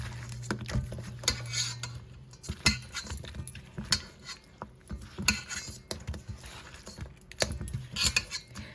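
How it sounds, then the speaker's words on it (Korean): Two spatulas toss seasoned raw crabs in a bowl, giving soft irregular clinks, scrapes and wet pats, fairly quiet and close, with no talking. "이렇게 주걱 2개를 이용해 가지고 이렇게 살살 비벼주세요"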